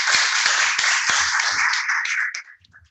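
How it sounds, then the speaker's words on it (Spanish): Applause for Carlos Vargas after a guided tour, a small group clapping steadily for over two seconds before tapering off into quiet. "una vez más vamos a hacer un fuerte aplauso al señor Carlos Vargas por esta guía"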